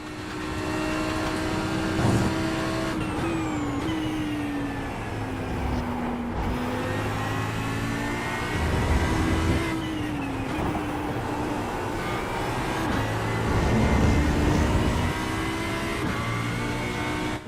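Race car engines at Sebring in a racing game, a continuous droning engine note that rises and falls with shifts and acceleration, with other cars passing close by.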